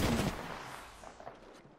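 Gunfire in the video game Apex Legends: a quick burst of shots opening loud, then fading into a decaying tail with a few fainter cracks afterward.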